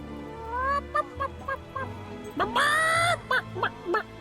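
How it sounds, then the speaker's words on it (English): Geese or fowl in Fable III honk and cackle in a run of short, close calls, with one longer, loud, harsh honk partway through, playing alone with no talk. "Oh, oh, the chickens are right here."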